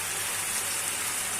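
Bottle gourd pieces tipped into a pan of hot oil and cooked-down spice paste, giving a steady, close, dense hiss of sizzling that holds evenly without pause and has no talking over it.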